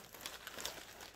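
A plastic bag crinkles briefly during the unboxing of a repaired Longchamp bag, giving a quick burst of soft, close rustling and crackling that lasts just over a second.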